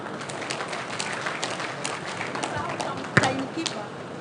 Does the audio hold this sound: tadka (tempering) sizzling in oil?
no